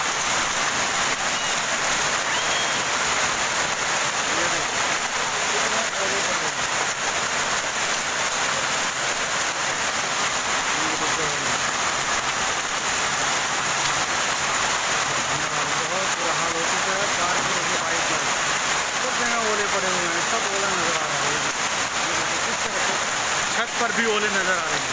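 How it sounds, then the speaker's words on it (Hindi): Heavy hail pounds a road and park in Delhi, a dense, unbroken roar of pelting stones throughout, while voices talk over it. "हर जगह पर ओले ही ओले। कितना ओला पड़ रहा है"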